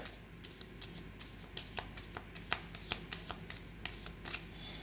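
A Lenormand card deck shuffled by hand, producing a quick run of crisp riffling snaps and soft flutters, close and fairly quiet, repeating steadily with no talk.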